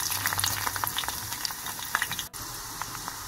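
Dried peppers and green chillies fry in hot olive oil for a tadka, a dense, steady crackling sizzle with scattered sharp pops throughout, close and without talk.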